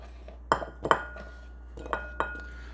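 Chopped breakfast potatoes, cut to even pieces, tumble into a bowl in a few quick clattering knocks and clinks, two bursts close together followed by two lighter ones.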